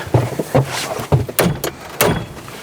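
A side-by-side (SSV) vehicle door is worked in a few sharp clunks and latch clicks, with short sliding and rattling sounds between them, close by.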